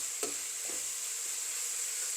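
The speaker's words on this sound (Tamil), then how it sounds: "இது நல்லா பொரியணும்." Dried baby prawns frying in a pan for sambol, a steady hiss of sizzling oil with a faint stirring scrape near the start.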